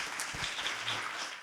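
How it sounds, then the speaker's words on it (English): Audience applause at a community coalition conference, a moderate, continuous patter of many hands clapping at fairly even loudness, with no voices over it. "I want to give one more big round of applause"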